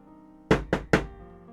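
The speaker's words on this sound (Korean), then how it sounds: "누군가 내 방문을 두드렸다" Three firm knocks on a dormitory room door at night, evenly spaced and close, sounding alone in a quiet room with a faint steady hum behind them.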